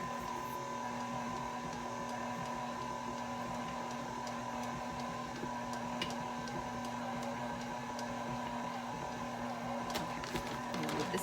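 A stand mixer runs on its stir setting through vegan buttercream made with powdered sugar, giving a steady motor hum with a faint rhythmic ticking, close and constant.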